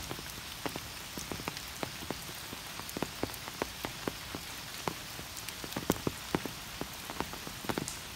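Rain falls on a farm during the rainy season, a steady soft hiss with many distinct close drops pattering irregularly on surfaces throughout.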